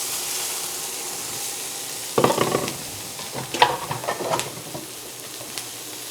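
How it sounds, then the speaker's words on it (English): Peppers hitting residual steak oil in a hot pan, a close sizzle and hiss with several bursts of stirring and tossing over it, no talking. "I'm going to use the residual oil from the steak and add my peppers"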